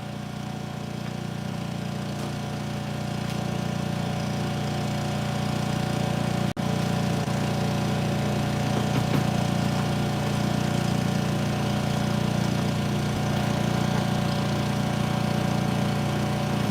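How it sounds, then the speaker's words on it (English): Blades spinning inside a plastic-to-fuel reactor give a steady, droning mechanical hum with a low engine-like tone that runs unbroken and fairly loud for the whole stretch, with no talking over it. "Oh, I gotta spin the blades. I haven't spun the blades in a while."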